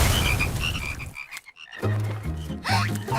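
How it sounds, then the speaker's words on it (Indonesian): Cartoon frogs croak in a loud, busy chorus, with overlapping croaks and bright chirps; it drops out briefly midway, then returns with deep, steady croaking. "Oh, lihat semua katak itu."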